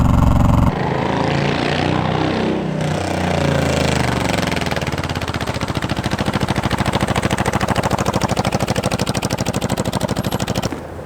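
A cheap auction motorcycle with almost no exhaust runs loud and close, its rough, rapid popping firing stream carrying on for the whole stretch, with revs rising and falling early on before settling into a steady harsh rattle.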